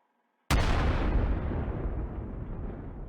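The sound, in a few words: grenade explosion in the video game Call to Battle 2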